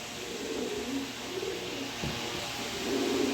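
Red checker pigeons cooing softly in low, rolling murmurs over a steady background hiss, nearby and continuous with no talking.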